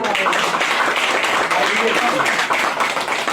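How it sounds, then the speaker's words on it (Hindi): Applause from a church congregation welcoming a speaker at a Sunday service, a dense, steady patter of many hands clapping together throughout at close range. "हम सब जन मिलकर भाई विजय को एक जोरदार ताली बजा के वेलकम करेंगे"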